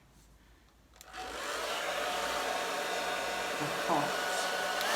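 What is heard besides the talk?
hair dryer on low heat drying resin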